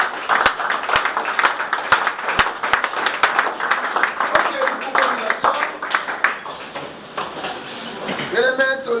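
A church congregation claps in praise with sharp, scattered hand claps over a sustained wash of voices and singing.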